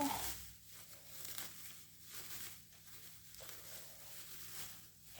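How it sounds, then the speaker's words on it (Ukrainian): Soft crinkling and tearing of a plastic bag while moss is pulled out and spread by hand, quiet close rustles in irregular bursts with no voices. "Дістаю з пакету. Ось так. В пакеті я його розрівняю. Ось так роздеру, роздеру, розрівняю."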